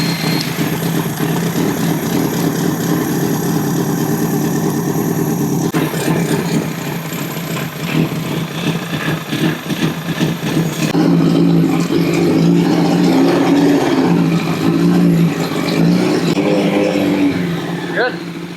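A steady, loud 2006 Honda CBR1000RR motorcycle engine runs and idles throughout, with rougher surges partway through.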